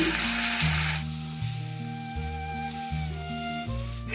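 Salted potato pieces sizzle in a hot pan for a bitter gourd and potato dish, a steady close hiss with a few soft stirring knocks underneath.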